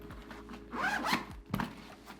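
Zipper on a small pocket of a landscape photography camera bag being pulled open and shut in several quick rasping strokes, close and clear with no talking.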